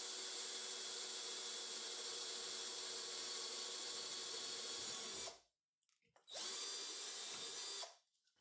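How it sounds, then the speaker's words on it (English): A handheld power drill with a 5mm bit whines steadily for several seconds drilling through a hardened steel guide bush, stops briefly, then runs again in a shorter burst before cutting off. "Place the 5mm drill bit in a handheld drill. Drill the hole through the bush,"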